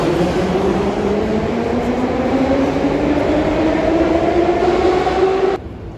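A Saint Petersburg metro train hums and whines loudly at close range, its pitch slowly rising as it accelerates, then the sound drops off abruptly near the end.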